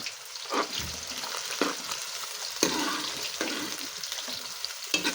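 Bitter gourd frying in a pan, a steady sizzle broken by several sharp scraping stirs spaced a second or so apart, close and moderately loud with no voices.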